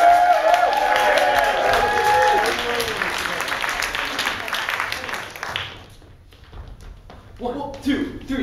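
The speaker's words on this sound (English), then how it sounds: "Let's get another round of applause for the red team" Dense, loud audience applause at an improv comedy show for the red team, filling the first five seconds and then fading to lighter scattered sound, with voices speaking over it.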